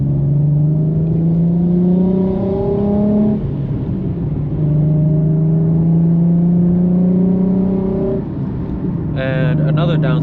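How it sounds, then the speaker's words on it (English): Inside a Nissan 370Z driving with the windows up, a loud, steady engine drone climbs in pitch through the gears, dropping between shifts, over constant road and tire rumble. "I rolled up my windows so you can kind of hear the cabin noise."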